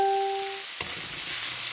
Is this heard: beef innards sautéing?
yes